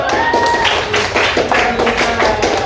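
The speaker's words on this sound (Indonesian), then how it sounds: "Beri aplaus dong buat temennya." A classroom of students claps for a classmate after a presentation, a brief burst of close, uneven clapping that holds at a steady level for a few seconds.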